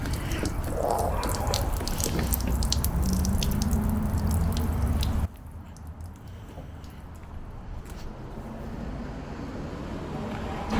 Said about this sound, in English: So the water is just not really flowing out of the ski like I'd expect it to.